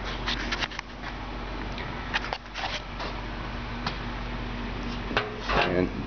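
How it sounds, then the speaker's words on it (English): The metal door of an Argentine grill and BBQ closes with a few clunks and rattling knocks over a steady low background hum. "Got my door closed."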